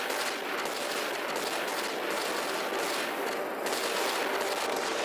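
Sustained weapons fire rages in a Guardians of the Galaxy Telltale game battle against a Celestial, dense overlapping rapid shots forming a loud, continuous barrage with no pauses.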